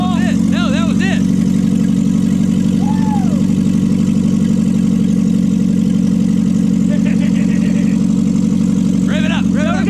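A $750 Japanese muscle car engine with a turbo runs at a steady, loud idle close by, its rough drone constant throughout with no clear rev, while voices chatter intermittently over it.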